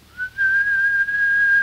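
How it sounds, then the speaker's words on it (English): A single clear whistle, a sustained steady tone held for over a second with a slight rise at the start. "she heard the faint answering whistles outside"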